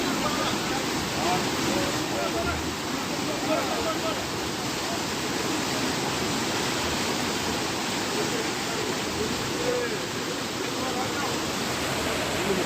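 Water pours steadily into the Thirumangalam main canal, a dense continuous rushing roar with no break in level, like a strong stream or small waterfall.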